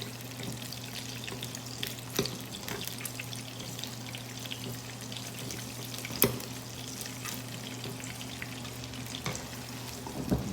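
Garlic and shrimp fry in a pan with a steady loud sizzle, punctuated by occasional clinks and stirring sounds, with no talk over it.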